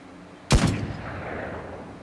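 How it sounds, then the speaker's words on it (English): A .50 cal machine gun in the video game Broken Arrow fires once, a single sharp, loud report followed by a long rumbling decay that fades slowly. "There's the 50 cal."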